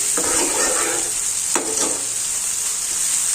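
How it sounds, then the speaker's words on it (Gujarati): Chopped tomato and mixed vegetables sizzle steadily in a pan, with a couple of brief stirring scrapes over the continuous frying hiss, close and moderately loud, no talk. "બધા જ વેજીટેબલ્સ છે તેને આ રીતના આપણે 2 થી 3 મિનિટ માટે સાતળી લેવાના છે"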